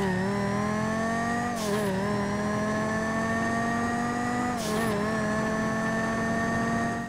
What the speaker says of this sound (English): So that is basically the sound of the normal engine for the Banshee there